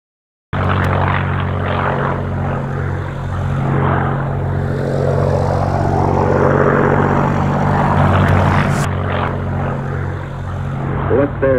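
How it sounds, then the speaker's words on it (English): A propeller-driven World War II fighter bomber drones steadily overhead, a loud, continuous engine roar with a low throbbing hum that swells slightly as it passes, filling the whole stretch. "fighter bombers strafing targets of opportunity"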